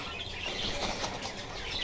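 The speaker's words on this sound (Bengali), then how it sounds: "এই যে দেখুন এখানে এক জোড়া শালিক পাখি দেখতে পাচ্ছি।" A pair of frightened myna birds flap their wings in a cage at a bird shop, a continuous close flurry of fluttering with faint chirps, no talking.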